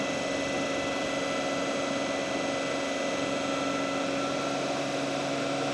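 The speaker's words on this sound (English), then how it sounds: "Motor is started." An electric motor driving an alternator in a lab runs at a steady speed, near 1500 RPM. It gives a continuous, even hum with a tonal whine that stays unchanged throughout, with no talk.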